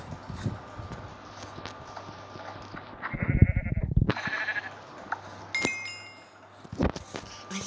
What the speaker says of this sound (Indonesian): apa sih domba?